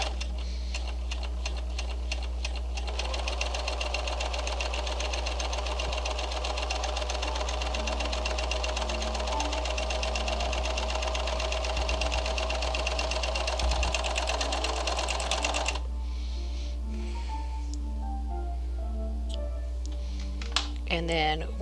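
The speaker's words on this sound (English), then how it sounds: "we're going to run it through our serger down the top and right along the edge here" A serger running along the edge of a fabric seam, a fast, steady mechanical whir and rattle that lasts about thirteen seconds before stopping, close up, with a low constant hum underneath.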